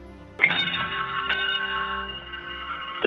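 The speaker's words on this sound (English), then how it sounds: "the shuttle undocked with the traditional ringing of the ship's bell" A ship's bell rings aboard the space station as Space Shuttle Discovery undocks: one clear struck tone that rings on and slowly fades, with a second faint strike near the end over a low background hum.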